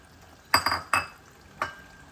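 A lid is set on a pan of palak paneer, giving a few close metallic clinks and clatters: a quick double knock, another tap, then a final lighter clink over a quiet background.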